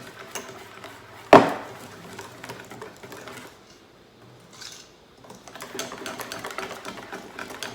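A whisk beats waffle batter for apple crumb waffles in a bowl, giving quick rhythmic clicking and scraping with one sharp knock, a short pause, then steady whisking again at close range.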